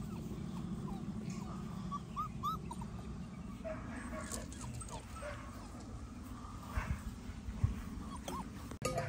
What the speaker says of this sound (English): they hear us at that door and they start barking